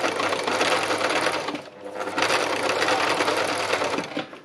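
A sewing machine stitches fabric in a steady rapid whirr, pausing briefly before starting again at the same even pace, close and loud with no talking.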